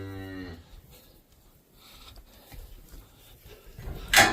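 Cattle low in a livestock pen during pregnancy testing: one drawn-out moo opens, a quieter stretch of shuffling and pen noise follows, and a second, louder moo closes.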